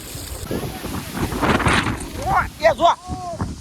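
Heavy rain driven by strong wind in Dayal village, a steady broadband rush with gusty buffeting against the microphone, while voices talk over it toward the end.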